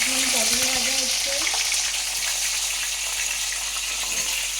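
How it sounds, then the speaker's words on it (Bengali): Pointed gourd (potol) frying in a pan with a constant bright sizzle and hiss, while brief voice-like murmurs surface early on. "এখন পটল ভাজা হচ্ছে"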